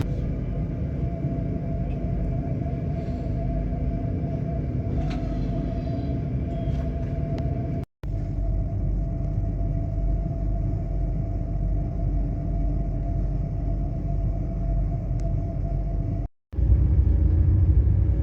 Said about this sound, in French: ces trains sont pendulaires et donc s'inclinent dans les courbes